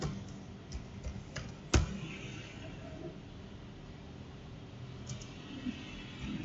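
Keys clack on a computer keyboard while a heading is typed into an Excel spreadsheet: sparse, soft taps with one sharper, louder keystroke, set against a quiet room hum and no voices.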